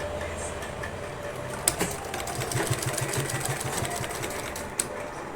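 A sewing machine runs close by in a fast, even rhythmic clatter while stitching a border onto a neckline, with a couple of sharp clicks as the fabric is handled.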